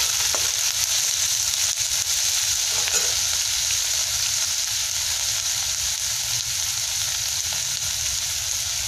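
Chopped green chili and onion sizzle in a pan of oil while cooking chili chicken, a steady close-up crackle and hiss that stays loud and even throughout, with no voices.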